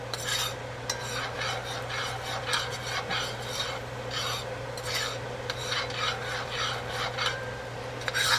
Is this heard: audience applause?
no